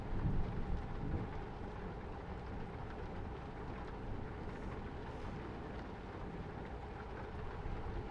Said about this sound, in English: Oh, we got thunder as well.